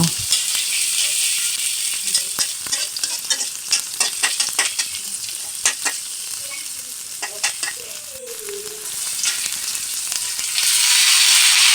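Chopped onions and green chillies sizzle in hot oil while a spatula stirs them, giving an even frying hiss broken by scraping strokes, close up and without talk, the sizzle swelling louder near the end.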